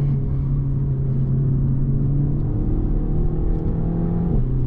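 Renault Megane 4 RS Trophy facelift pulling hard at full throttle, a loud, steady engine drone with rising harmonics that climb continuously for about four seconds before easing off sharply near the end, heard from inside the car.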